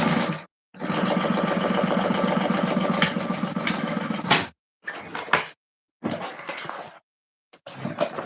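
Sewing machine stitching fabric in bursts: a long run of fast, even whirring, then several shorter starts and stops separated by silent pauses, close and clear with no voices.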